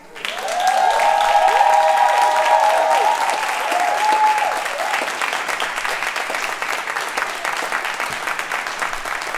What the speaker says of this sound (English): Y'all keep clapping for Kai Smith.